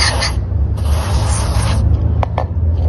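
Cleaner is sprayed onto a dirty part of a Toyota Corolla Altis engine, hissing bursts of close spray over a steady engine hum, with brief scraping touches near the end.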